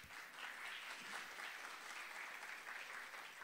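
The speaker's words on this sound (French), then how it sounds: "On l'applaudit pour l'encourager?" Faint but steady applause from an audience at a French-language contest for learners in Iraq, encouraging a contestant, a continuous even patter of many hands heard at a distance.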